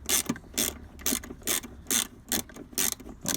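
A ratchet tool tightening 10mm bolts on the rear shock absorbers of a Mk4 Ford Mondeo, with close, loud, rhythmic clicking bursts repeating about twice a second and no talk.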